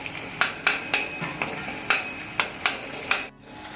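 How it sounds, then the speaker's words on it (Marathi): Tomatoes being mashed in a frying pan with a series of sharp, regular scraping and tapping strokes, about one every half second, close and fairly loud, with a soft sizzle beneath and no talking. "टमाटा मस्त असं बारीक करून घ्यायचं"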